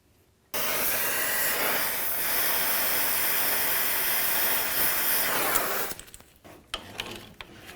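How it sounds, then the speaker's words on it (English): Butane torch roaring with a steady broadband hiss while heating the threaded sleeve of a tie rod end on a 1999-2007 Ford F-250, loud and continuous for about five seconds before cutting off, followed by faint clinks. "I'm going to use some torches."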